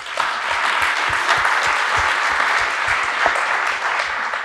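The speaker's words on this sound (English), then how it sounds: "round of applause, thank you." A conference audience at an R users' conference in Toulouse claps in a sustained round of applause, dense and even with scattered individual claps standing out, lasting the whole stretch without talk.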